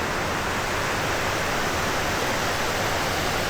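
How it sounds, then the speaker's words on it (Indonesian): A small but very high river dam waterfall roaring in a steady, loud, dense wash of falling water that fills the whole stretch without a break, with no voices. "kita cobain di air terjun ini"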